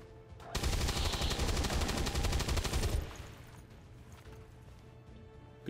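Rapid automatic gunfire aimed at a stun lancer in the turn-based strategy game XCOM 2, a loud sustained burst of about two and a half seconds that cuts off sharply into a quieter low hum.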